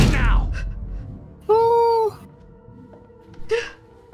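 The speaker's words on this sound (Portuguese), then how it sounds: "Está aqui gato." A cat meows in the horror game Little Hope, one clear tonal meow in the middle and a shorter one near the end, set among quiet game sounds after a brief rustle.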